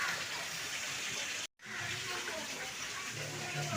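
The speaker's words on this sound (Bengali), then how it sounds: "এবার জল ঢাললাম" Water is poured over washed fish in a home kitchen, a continuous soft gushing splash that cuts out for a moment partway through and then resumes, close but fairly quiet.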